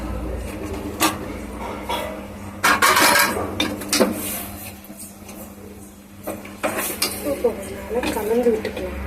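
A spoon stirs turmeric into a biryani mixture in a cooking pot, giving repeated scraping and clinking bursts against the metal, fairly close and uneven in rhythm.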